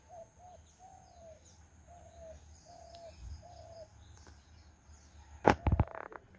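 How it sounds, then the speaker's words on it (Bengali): Birds call by a pond in rural Bangladesh: a series of soft repeated cooing notes, fairly distant, over a quiet outdoor background, ending with a brief louder knock or clatter. "বৈচিত্র্যময় পাখির গান"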